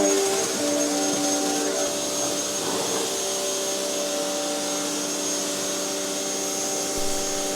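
A pressure washer rinses suds off a fabric convertible roof, a loud, steady, close hiss and motor drone that holds unbroken throughout.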